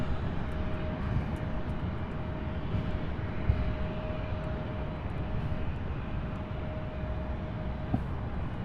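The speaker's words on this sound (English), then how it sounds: "the E-175 now starting to taxi and move" Embraer E-175 jet taxiing at an airport, a steady distant engine rumble and whine that holds evenly throughout with a thin constant tone, heard outdoors from afar.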